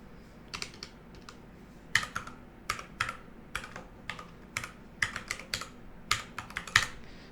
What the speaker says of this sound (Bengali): তো এখানে আমি একটা ইমেল অ্যাড্রেস টাইপ করে দিচ্ছি।